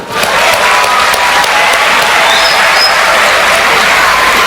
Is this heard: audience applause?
yes